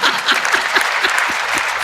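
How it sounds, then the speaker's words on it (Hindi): Audience applause at a Hindi poetry gathering in Rudrapur, a brief, steady burst of clapping close by and fairly loud. "तालियां कमजोर है भाई साहब"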